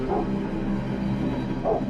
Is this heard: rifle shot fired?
no